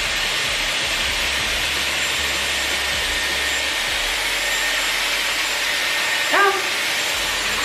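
A Dyson Airwrap hair styler blows air while drying and styling hair, a steady loud broadband whoosh that runs throughout, close by, with no talking.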